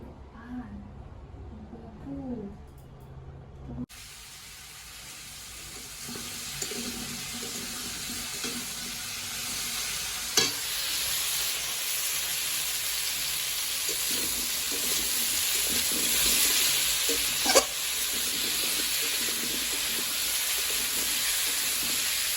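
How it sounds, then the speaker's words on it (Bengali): After a brief voice, an egg fries in a pan with a steady, loud hiss and sizzle that carries on for many seconds, with a couple of small clicks. "আমি এদিকে একটু ডিমের পোচ বানাচ্ছি"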